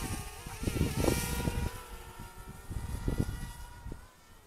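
A DJI Spark drone carrying an 808 keychain camera flies in sport mode, its close whining rotors shifting in pitch with several surging bursts before the sound drops away and eases off at the end.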